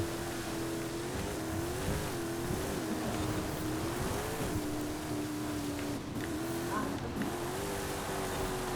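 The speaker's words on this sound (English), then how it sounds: "Now we're drifting through here." Racing car drifting in the Forza racing video game, a steady engine drone with wavering pitch as revs rise and fall through the slide, continuous and fairly even for the whole stretch.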